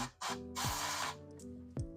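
Bursts of hissing water spray from a pressurized nozzle start and stop several times, washing agar off a tissue-culture plant, with a machine hum underneath.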